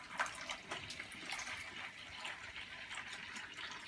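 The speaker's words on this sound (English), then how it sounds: "I'm going to remove maybe a little more water this time." Aquarium water runs out of a tank and splashes into a bucket during a water change, a faint, continuous trickling pour with small bubbling spatters.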